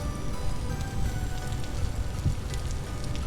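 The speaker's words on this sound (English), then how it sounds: "Oh, it's raining." Steady rain falls in the survival video game Vintage Story, a continuous even hiss of drops on surfaces with soft low rumble underneath, with no voices.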